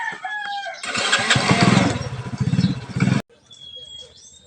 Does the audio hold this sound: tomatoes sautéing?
no